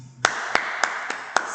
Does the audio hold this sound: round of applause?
yes